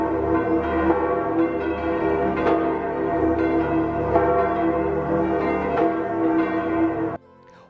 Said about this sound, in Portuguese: Os sinos nos convidam à oração.